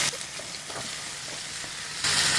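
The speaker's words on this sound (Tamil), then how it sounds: "காயெல்லாம் கொஞ்சம் நல்லா வதங்கட்டும்" Potatoes, carrots and other vegetables sauté in a pan for vegetable Maggi, a steady close sizzle with a few soft stirring scrapes, growing brighter near the end.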